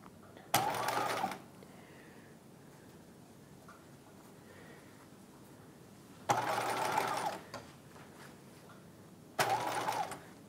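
Sewing machine stitching the lining of a '50s halter dress near the halter strap, in three separate bursts of rapid mechanical whirring with quiet pauses between them, the first and last short and the middle one longer.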